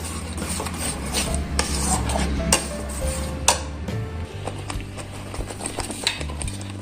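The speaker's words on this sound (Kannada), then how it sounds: "ಒಂದೆರಡು ನಿಮಿಷ ಎಣ್ಣೆ ಬಿಟ್ಕೊಳ್ಳೋವರೆಗೂ ಫ್ರೈ ಮಾಡಿದ್ರೆ ಸಾಕು ಲೋ ಫ್ಲೇಮಲ್ಲಿ ಫ್ರೈ ಮಾಡ್ಕೊಳ್ತೀನಿ" Spices with turmeric frying in oil over a low flame, heard as a soft, continuous sizzle under frequent scraping and stirring of a utensil against the pan.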